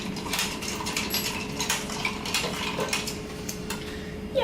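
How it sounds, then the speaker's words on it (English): A spoon stirs liqueurs and lemon juice in a glass, giving quick, light metallic clinks and scrapes that tick irregularly and close by, fairly quiet with no talk. "just stir that to mix it in"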